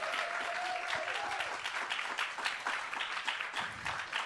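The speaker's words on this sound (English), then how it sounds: "Yes, big applause." An audience at a tech-for-good awards event breaks into sustained applause, a dense, steady wash of clapping from many hands lasting the whole stretch.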